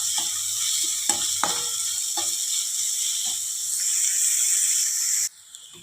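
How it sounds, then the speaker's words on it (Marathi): Finely chopped onions sauté in a pan, a constant bright hiss of sizzling oil with a few soft stirring scrapes, close by, cutting off abruptly near the end. "कांदे आपल्याला छान सोनेरी रंग येईपर्यंत परतून घ्यायचे आहेत"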